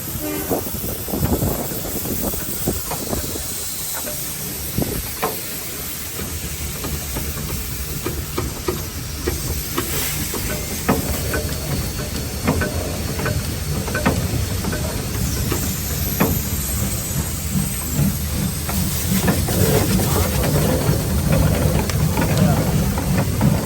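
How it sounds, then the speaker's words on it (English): Steam traction engines hiss and chuff with rhythmic puffs and machinery clatter at a Steamrail open day, someone talking over the noise at times. "So here's some of these steam traction engines that have turned up."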